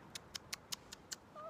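A cat meows in a run of six short, evenly spaced calls, close and fairly clear over a quiet background.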